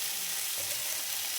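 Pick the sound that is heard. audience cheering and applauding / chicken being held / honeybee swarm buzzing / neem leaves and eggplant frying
neem leaves and eggplant frying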